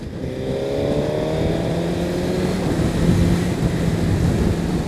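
A 2018 Suzuki GSX-R1000R inline-four motorcycle with a loud aftermarket exhaust revs and accelerates, its engine note climbing steadily in pitch before holding a strong, close-up drone.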